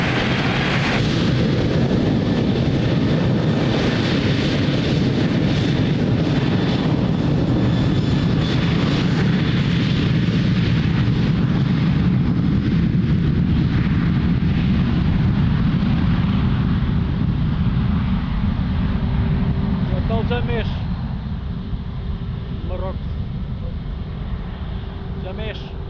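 An airliner takes off from runway 02 at Lisbon Airport, a loud sustained engine roar that stays strong for most of the stretch, then gradually eases and thins toward the end.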